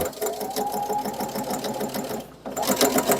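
An electric sewing machine stitches the lining of a small tote bag with a 1 cm seam, running in a fast, steady mechanical chatter that breaks off for a moment before resuming, loud and close.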